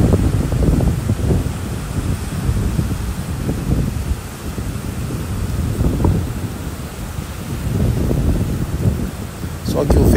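Strong wind gusting at Cotovelo beach near Natal, a dense roaring rush buffeting the microphone steadily throughout, with surf-like washing underneath and louder gusts swelling in waves.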